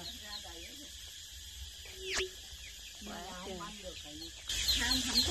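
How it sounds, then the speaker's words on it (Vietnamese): Newly hatched chicks cluck and peep in short, scattered bursts, close by, over a noisy rural background with people talking nearby. "mấy chú gà con nè"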